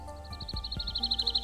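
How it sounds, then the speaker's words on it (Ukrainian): Small birds chirp in a winter park, a steady run of short high tweets repeating quickly and growing slightly louder, over a low background rumble with a few soft thumps. "Так, саме птахи."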